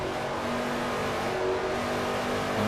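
A NASCAR stock car in a racing game powers down the straight at Twin Ring Motegi, its engine a loud, steady, sustained drone holding high revs throughout, with no voices.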